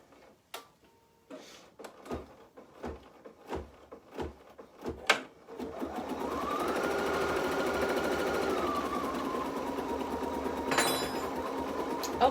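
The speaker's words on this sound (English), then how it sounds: "we're going to go ahead and let it stitch out this decorative design" An embroidery machine stitching a decorative design starts with a series of sharp mechanical clicks and knocks, then settles into a fast, steady, close-up whirring hum of needle strokes that runs continuously.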